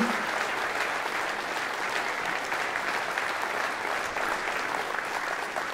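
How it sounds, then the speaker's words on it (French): Steady, dense applause from a large crowd at a final campaign rally, cheering volunteers; the clapping stays loud and even throughout with no pause. "on peut les applaudir très très fort"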